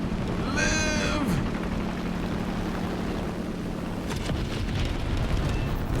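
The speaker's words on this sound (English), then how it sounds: "Drop all the bombs." Bombs exploding in a video game: a rumbling, broadband blast surges in near the end over a steady low hum, with a brief whooshing sweep earlier.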